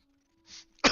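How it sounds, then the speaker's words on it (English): A man at a tabletop role-playing session gives a short throat-clearing cough, then a louder, sharper cough right after, both close and alone. "Oh, he's coughing."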